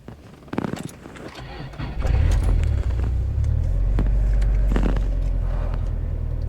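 A manual Subaru driven by a learner creeps forward, a brief clatter followed by a steady low engine rumble that holds, with a few short sharp knocks over it.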